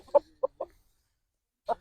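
Three short clucking calls from a rooster in quick succession, a pause, then one more cluck; fairly close and clear, with no talking.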